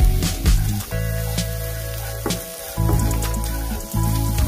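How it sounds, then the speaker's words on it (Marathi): Homemade onion-garlic masala sautéing in a pan for Satara-style dry chicken, a loud, constant close sizzle with a low steady hum and occasional stirring scrapes. "आता 1-2 मिनिट हा मसाला चांगला परतून घ्यायचा."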